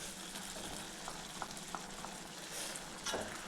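Onions and ground tomato sauté in oil in a pan for a green pea gravy, a steady soft sizzle with a few faint stirring clicks, heard alone and fairly quiet.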